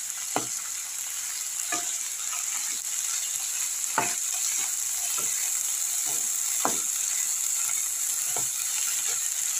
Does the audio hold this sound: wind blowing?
no